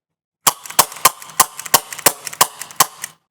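Rapid CO2-powered Rekt Nerf pistol fires a string of about ten sharp, close, loud shots at a fairly steady rhythm, each crack followed by a brief hiss, with no talking.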